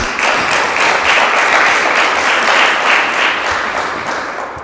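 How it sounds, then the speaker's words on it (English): Audience applause at a national tourism debate in Jamaica, a dense, steady wash of many hands clapping that holds loud for several seconds and then tapers slightly, with no talk over it. "I want to give you a round of applause and say thank you"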